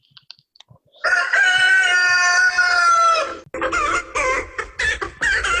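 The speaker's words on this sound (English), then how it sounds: "We give you Kitty the chicken." A chicken named Kitty crows loudly and close, one long drawn-out call, then breaks into a run of quick clucks and squawks, alone without any talking.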